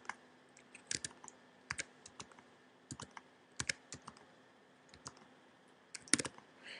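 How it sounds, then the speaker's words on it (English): Keys clatter on a computer keyboard as multiplication answers are entered, quiet clustered bursts of clicks every second or so with short pauses between, close and with no voices. "All you need to do is enter the answer and type enter"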